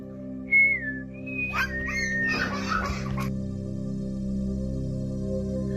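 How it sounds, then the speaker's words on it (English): Several short, clear whistled notes, including a brief rising-falling phrase, over a steady low hum, followed by a burst of rustling noise. "he doesn't like it when we whistle"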